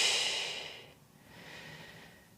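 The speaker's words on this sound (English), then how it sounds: "We're going to take 3 big breaths here." One big, deep breath drawn close to the mic during a relaxed foam-roller stretch, with a long airy exhale that fades and then a softer follow-up breath.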